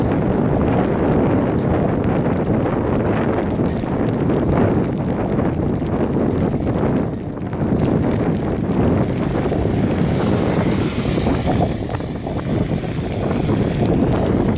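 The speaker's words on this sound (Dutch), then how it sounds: "er aan het hagelen, regenen en enorme wind" Strong, roaring wind buffets the microphone continuously, a loud, rushing gusty storm with hail and rain and no pauses, on a road in Zeeuws-Vlaanderen, Netherlands.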